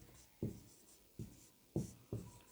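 Handwriting on a board or page during a Hindi exam-prep lesson: four distinct, dull taps and scratches in an uneven rhythm, faint and close, with no voice over them.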